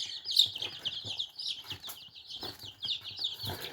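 Small decorative silkie-type hens with silky plumage cluck and chirp in a backyard in short, repeated bursts, fairly close and steady, with no one talking.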